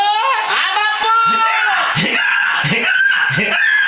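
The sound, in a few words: actor imitating a donkey braying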